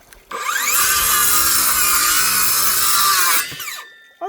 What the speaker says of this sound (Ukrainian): Беремо наш брусочок, беремо наш циркуляр валуївський